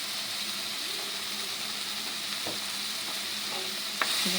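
Dal with a little meat masala frying in a pan, a steady soft sizzle with occasional stirring clinks and scrapes, close and moderately quiet, no voices.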